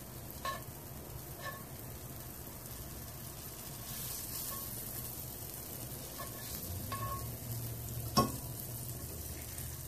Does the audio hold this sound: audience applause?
no